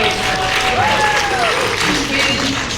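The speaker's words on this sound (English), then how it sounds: "Everybody clap." A convention audience claps in a dense, loud burst that fills the whole moment, with cheering voices and chatter mixed into the sustained applause of the crowd.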